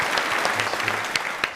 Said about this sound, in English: Everyone give a round of applause for Kenzo